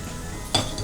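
A pan is set on a lit stove to temper spices for majjiga pulusu, a buttermilk curry. A single short metallic clunk rings out over a soft background hiss.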